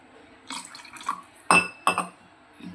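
Ground crab curry paste is rinsed with water in a metal vessel, giving sloshing water and a few sharp clinks and clatters of the pot, close up and irregular, with quiet gaps between.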